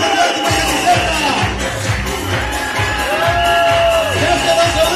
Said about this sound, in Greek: Ένα χειροκρότημα για τη Ζεύκα